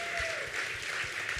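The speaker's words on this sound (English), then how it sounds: "go ahead and clap right now" Audience members at an evening gala clap together in a brief, fairly dense burst of applause heard at moderate distance with a few soft thumps beneath.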